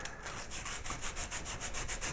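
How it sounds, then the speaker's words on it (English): Rhythmic back-and-forth sanding on a carved wooden koi, a steady scratchy rubbing repeated at an even pace, close and fairly soft with no voices. "you can go back to sanding this whole thing"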